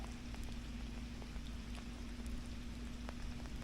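Rain patters steadily on swamp or creek water during a fall fishing trip, a dense, even hiss with scattered individual drop ticks and a low boat or engine hum underneath, with no talking.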